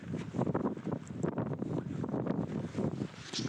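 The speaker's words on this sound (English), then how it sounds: "it's pretty windy" Strong gusting wind buffets an outdoor microphone on a sailing trip along the west coast of Scotland, near a tidal inlet. It makes a steady, loud roar with rumbling low thumps and no speech.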